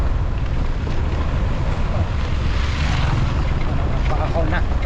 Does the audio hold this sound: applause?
no